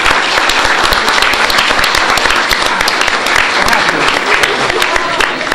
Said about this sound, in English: They certainly deserve a round of applause.